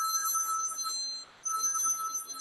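A telephone bell rings in steady bursts with a brief pause between rings, moderately loud and alone with no talk.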